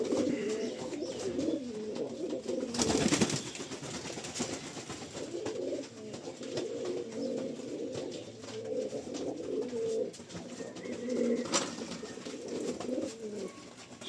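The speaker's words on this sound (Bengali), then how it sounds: "এই একটা পায়রা নতুন কালেকশনের," Pigeons with heavily feathered feet, newly added to a home flock, coo in low, rolling, overlapping calls that continue steadily throughout, close by, with one brief louder burst of noise near the start.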